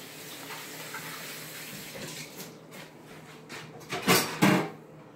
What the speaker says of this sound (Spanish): Déjenme lavar las manos.